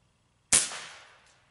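A single sharp shot from a Benjamin Discovery air rifle, a loud close crack after a brief silence, with a short decaying tail.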